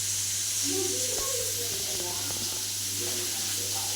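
Turmeric powder, salt and asafoetida being sautéed with sundal in a home pan give a soft, steady sizzling hiss over a constant low hum, with faint voices in the background.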